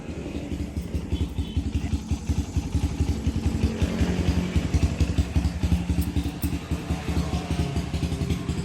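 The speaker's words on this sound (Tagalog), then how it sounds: "Winawarm ko muna yung makina bago ko patayin pag galing sa biyahe." A Kawasaki Barako 175 motorcycle engine idles steadily nearby, warming up after a ride, its low rapid putter holding an even rhythm throughout with no other sounds.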